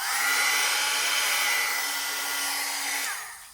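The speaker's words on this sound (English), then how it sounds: "And then I'm just going to use my heat gun." A heat gun blows hot air over embossing powder on a stamped card. Its loud, steady whirring roar starts right away, holds an even motor hum for about three seconds, then winds down and fades.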